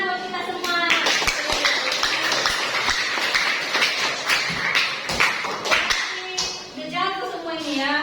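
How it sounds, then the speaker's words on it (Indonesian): A classroom of students claps together after finishing an accounting lesson exercise, a dense burst of hand claps under children's voices and chatter, with a teacher speaking as it dies down. "Oke, tepuk tangan buat kita semua."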